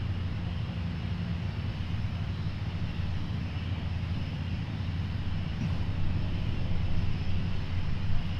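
An aircraft departing at the Seafair airshow in 2025, a steady low-pitched engine roar that swells slightly louder toward the end, heard from a distance with no talk.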